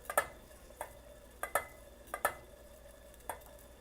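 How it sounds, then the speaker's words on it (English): A spoon clicks and scrapes against a pan while a thickening sauce for keto eggs Benedict is stirred, making sharp irregular taps in a quiet room. "Keep stirring. It is thickening pretty nicely."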